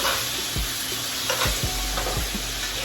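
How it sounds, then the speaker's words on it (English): Steak sizzles steadily in a hot pan as melted butter is spooned over it, a loud continuous frying hiss broken by a few sharp splashes and scrapes of the spoon, with no one talking. "We're gonna take that melted butter and throw it right on top of our steak"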